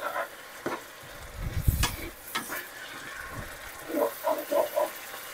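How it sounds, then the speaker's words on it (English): A whisk stirring food in a sizzling pan, with scattered scrapes and taps against the pan and a quick run of rhythmic whisking strokes near the end, close and moderately loud. "I'm gonna get my whisk out. Just stirring everything at the same time here."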